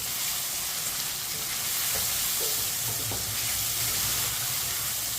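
Chicken with pumpkin and crushed ginger cooks in a pan over medium heat, a dense steady sizzle and hiss with a few soft spoon strokes while being stirred, close and unbroken, no talk.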